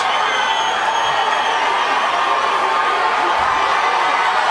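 At a Georgia MMA fight, a hometown crowd roars for local favorite Diego Saraiva, a thick, loud, unbroken wash of cheering and shouting that holds steady for the whole stretch.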